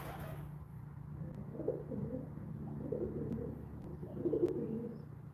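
Pigeons nesting just overhead give soft, low coos, repeated several times at a gentle, irregular pace against quiet outdoor background.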